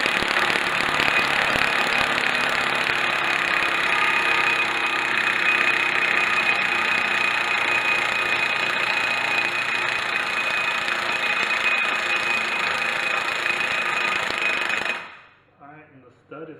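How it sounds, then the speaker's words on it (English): Impact wrench hammering a new wheel stud into the rear hub of a 1990 Nissan 240sx S13, a loud rapid buzzing rattle held for about fifteen seconds before cutting out abruptly, with a voice briefly heard after it stops. "and I give it hell with the impact."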